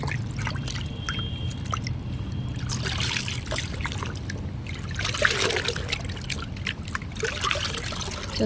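Dirty water trickles and drips steadily from a pack of freshly washed ladies' patiala pants, a close, continuous dribbling with scattered splashes and no talking.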